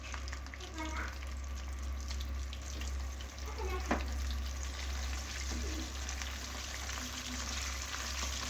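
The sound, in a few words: chicken frying in oil, second fry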